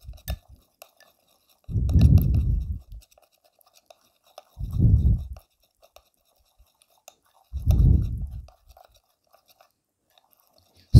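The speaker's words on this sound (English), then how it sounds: "Now we need to mix all the ingredients very well together." Homemade skin remedy ingredients mixed together by hand, heard as three separate bursts of soft, close scraping and stirring, each lasting about a second, with quiet gaps between.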